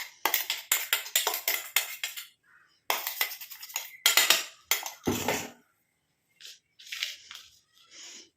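Curry-leaf hair-dye powder is tipped from a mixer-grinder jar onto a plate. Close, crisp taps and knocks come in quick clusters with short pauses between them, followed by a few lighter clinks near the end.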